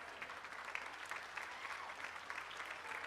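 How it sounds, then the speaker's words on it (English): Faint, distant applause from spectators at the Blackpool Championship Dog Show, greeting the pastoral group finalists; an even, soft wash of clapping that continues steadily throughout. "Now, a round of applause for all of these finalists, ladies and gentlemen"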